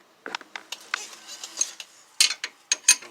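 Short metallic clicks and ratcheting bursts from a ratchet loosening a brake line fitting at the rear brakes of a 2012 VW Jetta, coming in uneven clusters close by with no talk.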